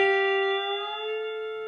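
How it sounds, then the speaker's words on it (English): A sustained pedal steel guitar note, picked and held as the B pedal squeezes the chord from C toward F, ringing with bright overtones and a gently wavering level, played alone without talking. "I like to get on the B pedal first before I pick the note and do the pedal squeeze"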